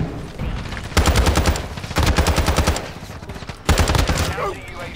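ISO Hemlock rifle in Call of Duty fires three long, loud automatic bursts with a brief pause between each.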